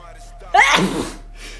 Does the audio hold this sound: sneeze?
yes